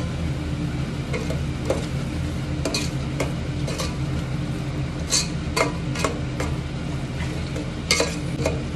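Spices being stirred into a Telugu-style egg curry in a pan, with repeated scraping strokes and clinks of the spoon in an uneven rhythm over a steady low rumble. Close, with no talk.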